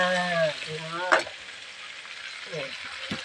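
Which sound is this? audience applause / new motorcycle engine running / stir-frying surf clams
stir-frying surf clams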